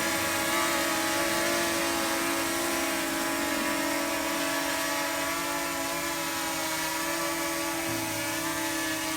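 A DJI Mini 2 drone hovering close by buzzes loudly and steadily with a high, tonal propeller whine that shifts pitch slightly as it takes off and lands.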